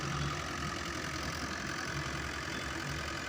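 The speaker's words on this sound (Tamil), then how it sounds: "இதோ இன்ஜின் சவுண்டு இதெல்லாம் பாருங்கள் அந்தளவுக்கு இருக்குன்ட்டு" Mahindra 575 DI tractor engine idling steadily in an open field during maize sowing, a continuous loud low rumble with a mechanical knocking texture, close to the listener, with no speech over it.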